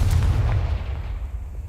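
A Confringo fire spell blast in Hogwarts Legacy hits as one loud booming burst at the start, then rumbles and fades into a quieter tail.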